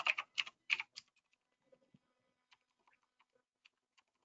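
Clattering keystrokes on a manual computer keyboard in a home office, a quick burst of loud clicks at the start then sparse, quieter taps spread out, with no talking.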